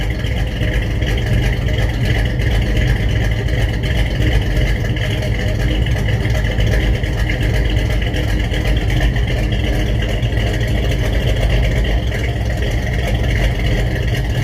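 A car engine fitted with a DIY aftermarket exhaust kit idles on a cold start, a loud, steady, deep, throaty rumble, continuous and close throughout with no change in pace.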